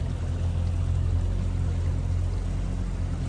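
A pontoon boat's outboard motor hums steadily at a low throttle, a constant close churning drone mixed with water noise.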